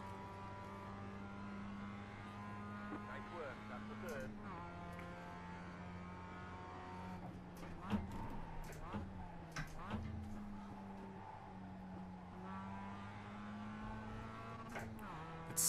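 Mazda MX-5 Cup race car in iRacing at Laguna Seca, a steady engine note holding and shifting pitch through corners with brief drops and small clatters, continuous and moderately faint throughout.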